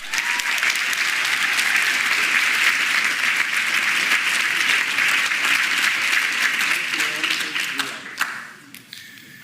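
A graduation ceremony audience at a medical college celebration bursts into sustained loud applause, many hands clapping steadily for several seconds before fading away, with faint voices underneath.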